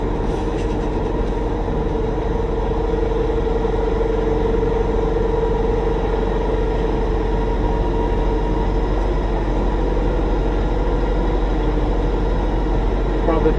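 A semi tractor-trailer idling and creeping in reverse during a two-point turn, its diesel engine giving a loud, steady low rumble with a constant hum throughout, while someone talks over it.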